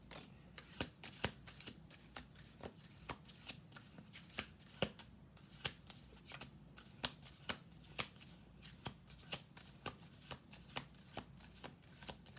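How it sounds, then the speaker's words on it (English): A deck of tarot cards is shuffled over and over, crisp riffling snaps repeating in a fairly steady rhythm, close and quiet with no talking. "We're going to do 2 more shuffle throughs"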